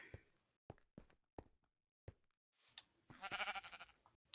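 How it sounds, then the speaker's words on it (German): Several sheep bleat in Minecraft, with short, spaced blocky calls followed by one longer, fuller bleat near the end, clear against near silence. "Oh, ich habe ein Schaf gefunden."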